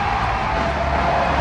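Crowd at a climbing competition cheering and shouting, a loud continuous roar with whoops over a steady low hum.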